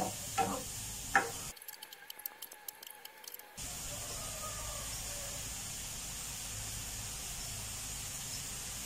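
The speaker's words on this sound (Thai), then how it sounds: "หั่นอกไก่พอคั้นนะครับแล้วก็เอาใส่ไปผัด" Sliced chicken breast is stir-fried in a pan: a few clacks and a short scraping stir give way to a steady, close sizzle that continues to the end.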